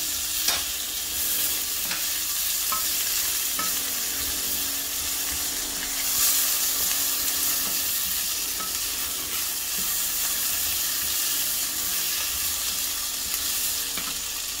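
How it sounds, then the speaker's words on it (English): Tomatoes and potatoes are stirred in a sizzling curry pan for tofu curry, with a constant loud frying hiss and intermittent spoon scrapes, and no voices. "I'm going to add in the tomatoes now. Give it a good stir."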